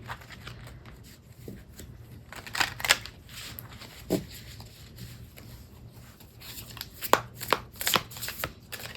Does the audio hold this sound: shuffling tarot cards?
yes